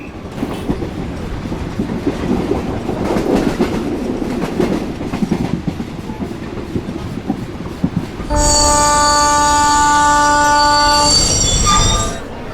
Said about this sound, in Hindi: मुंबई से दिल्ली जाने वाली मुंबई एक्सप्रेस प्लेटफॉर्म क्रमांक 5 पर आ चुकी है